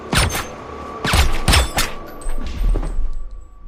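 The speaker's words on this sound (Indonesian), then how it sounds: "Lalu pria tersebut pun memasuki rumah dan langsung menembaki sepasang suami istri tersebut" Gunfire erupts in a film scene as a gunman storms a house and shoots at a married couple: several loud, sharp bursts in quick clusters, ringing and crashing close up, with no talk over them.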